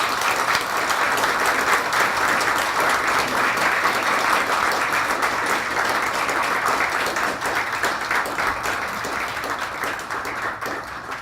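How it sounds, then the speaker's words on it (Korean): Sustained applause from a seated audience at a university farewell lecture and commemorative ceremony, dense and steady throughout, easing slightly toward the end. "마찬가지로 박수로 맞이해 주시면 감사하겠습니다."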